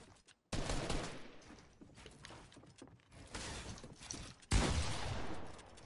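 Gunfire from a fast-paced online shooter match, with bursts of rapid shots and impacts that swell, fade briefly, then return in a loud final burst.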